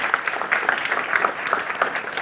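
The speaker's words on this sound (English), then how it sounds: "So I'd like everyone to give a huge round of applause to our sponsors." Audience applause for event sponsors at the opening of a tech conference, a thin scattering of individual claps with distinct sharp hits spread over a soft background wash.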